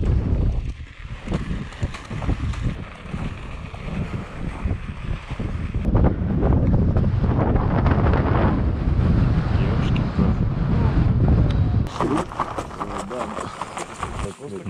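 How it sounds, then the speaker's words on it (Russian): Strong, cold mountain wind batters the microphone in heavy, gusting roars that run throughout, loud and close, with a voice speaking beneath the buffeting. "Очень сильный ветер и походу все-таки ноль или... ниже ноля где-то."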